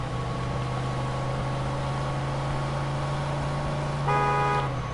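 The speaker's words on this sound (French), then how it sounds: "carré c'est pour klaxonner" Car horn in the Mafia 2 video game gives a short honk near the end, cutting over a steady low engine hum with no talking.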